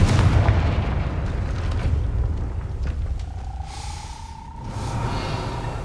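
A Confringo fire spell explodes in the Hogwarts Legacy video game: a loud, deep booming rumble that slowly fades, then a thin rising tonal whoosh and a second swell of rumble.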